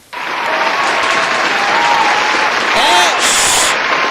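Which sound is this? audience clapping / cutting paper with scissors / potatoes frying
audience clapping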